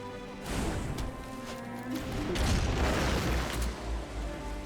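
In Magic: The Gathering Arena, the Lovestruck Beast card lands with a heavy digital thud, a loud sustained rumbling boom that swells and rolls on for several seconds.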